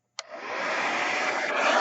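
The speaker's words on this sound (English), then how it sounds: "I have a hair dryer here that has a cool button." After a click, a hair dryer starts up and blows with a steady, loud whooshing hum, close by.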